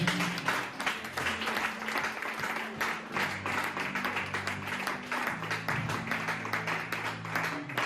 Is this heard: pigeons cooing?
no